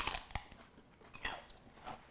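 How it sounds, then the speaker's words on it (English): Someone eats raw celery at home, producing quiet, irregular crunching and biting snaps with faint chewing between them, close but soft, with no talk. "Now I'm gonna want to eat all this celery."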